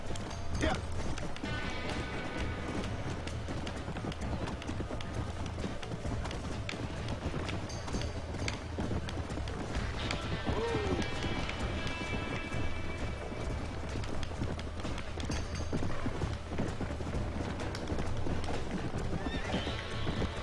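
A cream-white stallion in the Red Dead Redemption game gallops with a steady clip-clop of hooves. One shrill whinny stands out midway through, over a constant wash of ambient game sound.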